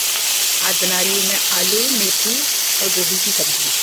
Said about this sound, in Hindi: आलू फ्राई कर रही हूँ मैं